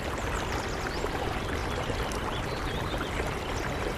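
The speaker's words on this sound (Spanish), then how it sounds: "Este río, bardeado por las grandes paredes de roca caliza, avanza dando una gran cantidad de saltos a diferentes elevaciones" A river running between limestone canyon walls tumbles down a series of rapids and small falls, giving a steady, dense rush of water that stays loud and unbroken throughout, with no voices.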